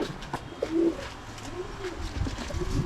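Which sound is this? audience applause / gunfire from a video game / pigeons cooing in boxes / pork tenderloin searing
pigeons cooing in boxes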